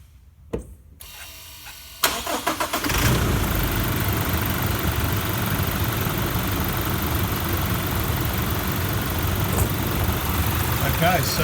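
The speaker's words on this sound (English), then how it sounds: "let's go and get the engine started" A car engine cranks and catches after a couple of brief clicks and a short mechanical burst, then settles into a steady, close idle that runs on continuously.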